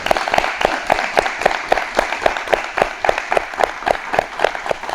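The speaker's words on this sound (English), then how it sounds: "So let's give them another round of applause." Audience applauding black belt graduates at a martial arts ceremony, a steady run of loud, distinct claps filling the full five seconds without talk over it.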